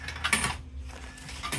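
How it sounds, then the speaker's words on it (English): Quarters dropping as change from a Wittern/USI Futura snack and drink combo vending machine, a brief cluster of metallic clinks and rattles over a low machine hum, fairly close. "It's giving me my change back."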